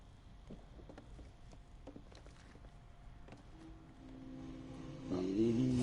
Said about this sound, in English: Damn, the engine's noisy.